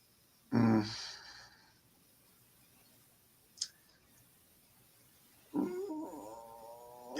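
A fifteen-month-old cat cries for attention with two loud, close meows several seconds apart, the second long and wavering. A faint click falls between them in an otherwise quiet room.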